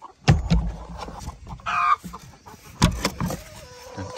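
Broody hen clucking up close on a farm, a few short low clucks and grumbles spaced over a few seconds, fairly quiet, with a faint higher squawk partway through.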